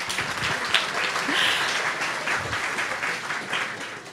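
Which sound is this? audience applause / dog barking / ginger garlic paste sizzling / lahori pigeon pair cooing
audience applause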